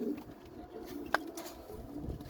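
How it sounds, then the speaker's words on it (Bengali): Pigeons in a kept loft coo softly while being fed, with a few low, faint calls and a brief sharp click over quiet room noise. "পরের কবুতর গুলারে খাবার দিতেছে"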